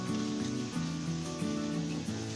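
Grated coconut roasting in ghee in a pan, a steady soft sizzle and crackle close up with faint scraping stirs, no talk.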